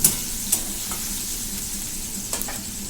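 Ground spice paste frying with tomato in a pan for a Bengali fish curry with yam and potato, a soft steady sizzle with a few light stirring clinks, no voices.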